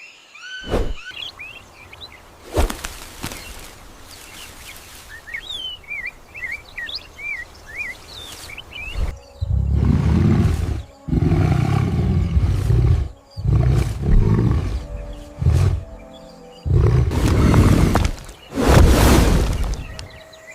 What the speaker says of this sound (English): A deep, guttural roar shatters the quiet.